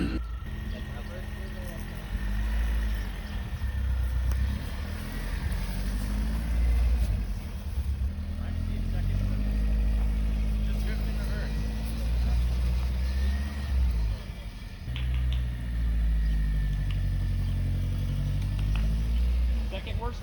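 A BMW E36, revived after sitting dead for six years, drives in first gear with a steady, droning engine under continuous talk. The rumble dips briefly partway through.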